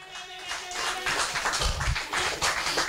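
A church congregation claps together, a dense patter of many hands that swells and continues steadily, fairly close and loud.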